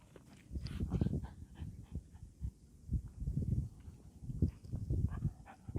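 Dogs out on a hike, with irregular soft thuds and scuffling of paws on the ground plus faint snuffling, moderately close, against a light outdoor hiss.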